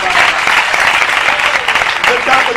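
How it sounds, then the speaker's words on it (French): Audience applauding steadily at a nomination ceremony, a dense continuous clatter of many hands with crowd voices mixed in, loud and close throughout. "Ok, on peut applaudir à Gaï, d'accord,"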